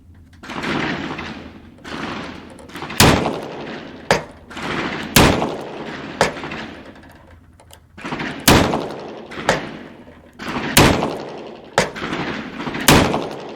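A handgun test-firing ammunition gives a slow series of sharp, loud, close shots, roughly one every second or two. Rattling and rustling handling noise fills the gaps between them.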